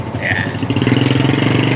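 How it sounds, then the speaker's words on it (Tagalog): A Honda 155 motorcycle engine runs close by with a steady, pulsing idle that firms up slightly partway through, heard alone without talk. "Check yung makina kung okay pa o hindi na."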